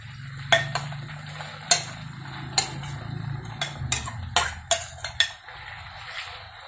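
Chili is dropped into garlic frying in a pan and stirred, with a steady low sizzle under sharp metallic clinks and scrapes of a utensil against the pan, about a dozen irregular knocks.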